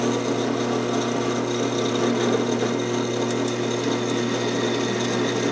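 A power drill with a never-sharpened bit runs steadily with a high, grinding whine, cutting into metal for seat belt brackets on a Ford F100, continuous and close with no talking.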